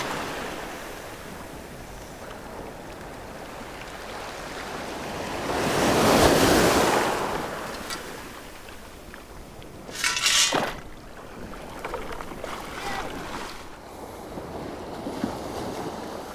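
Ocean waves break on a beach in a steady wash of surf, with one larger wave swelling and crashing in the middle and wind buffeting the microphone; no one speaks.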